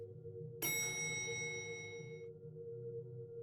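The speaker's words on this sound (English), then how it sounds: "That was the sound of the elevator closing." Elevator doors closing in the video game We Are Not Alone, heard as a single bright metallic chime that rings out and decays over a low steady hum.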